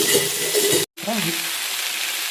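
Cabbage and tomato sautéing in a pan for cabbage palya, a close steady sizzle with a brief pause partway through as the food is stirred.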